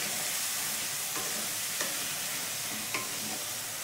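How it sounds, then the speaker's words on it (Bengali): Chicken with its marinade spice paste and cashew paste stir-fried in a pan for Afghani chicken curry, a loud, dense sizzle that runs throughout, with a few brief scraping stirs. "দিয়ে সব কিছু একসঙ্গে খুব ভালো মতো কষে নেব"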